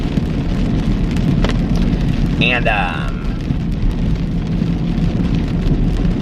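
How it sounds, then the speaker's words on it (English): Heavy rain pours down in a dense, constant roar throughout, loud and close, while a person talks briefly and a short chirping sound rises midway. "It is, like, really pouring down rain."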